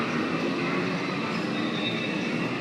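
A train runs close by past MBK at the Pathumwan intersection in Bangkok, giving a loud, steady rumble with a faint wheel hiss that lasts throughout without a break.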